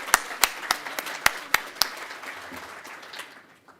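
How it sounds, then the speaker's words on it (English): Conference audience applauding the technical staff at an open source event: a sparse burst of sharp individual claps at a steady rhythm, about seven distinct hits, then trailing off into quiet room noise. "Let's give them a big round of applause."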